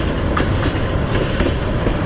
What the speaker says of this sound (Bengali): এখন যে ট্রেনটা যাইতেছে এটা হচ্ছে বর্তমানে স্পিডটা একদম কমই আছে